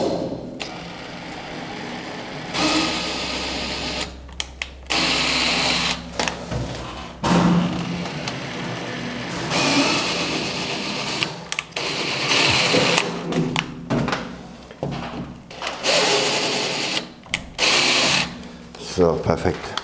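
A power tool slowly cuts an M4 thread into a 3.5 mm drilled hole, running in bursts of whirring with short pauses and stops, loud and close, with someone talking in between.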